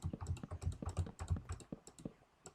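Fast, irregular key clicks from a laptop keyboard, typed up close in a continuous burst with short pauses and no voices.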